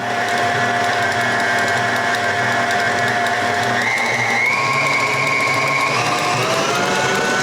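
Pound cake batter with vanilla and lemon being mixed, heard as a steady, loud motor whir that holds throughout and shifts slightly higher in pitch partway through, with no talking.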